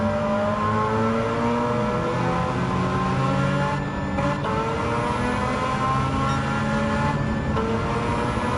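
Rotary-engined Mazda MX-5 in Gran Turismo 7 holding high revs near 8,000 RPM, a steady, buzzing engine whine with gentle pitch sweeps as the revs rise and settle, loud and continuous with no talking.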